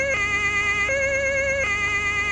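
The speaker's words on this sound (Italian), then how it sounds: "Questa è la sirena tedesca." A German police siren in Farming Simulator 17 blares loud and close, alternating between a high and a low tone in a steady two-tone cycle with nothing else over it.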